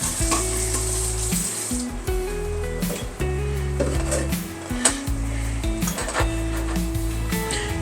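Garlic frying in fat in a pan, a steady close sizzle with occasional utensil scrapes and clinks as it is stirred; a low music-like tonal hum runs underneath throughout.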